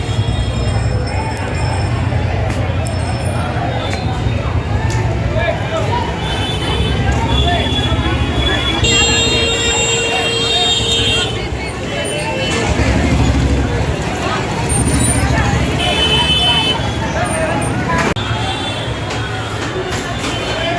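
Dense street noise at a crowded Indian market during the Dhanteras festival: a continuous close roar of traffic and crowd babble, with a few short tonal bursts that may be car horns, steady and loud throughout.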